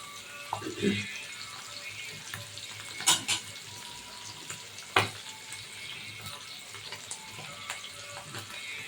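Onions and tomatoes sauté in a pan for a dried-fish thokku, giving a faint, steady sizzle with occasional clinks and stirring scrapes, fairly quiet throughout.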